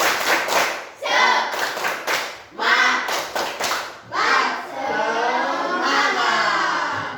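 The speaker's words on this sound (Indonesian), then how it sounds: "Sambil gerakan tangannya, ya. Tepuk semangat." Standing pupils in an Islamic religious education class perform the rhythmic 'tepuk semangat' clapping routine, sharp patterned bursts of claps with chanted children's voices between them, building into a longer sustained stretch of group chanting and clapping.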